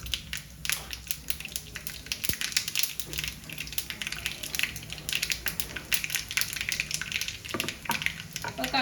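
Mustard seeds and fenugreek splutter in hot coconut oil, a dense, continuous crackle of tiny pops and sizzles close up.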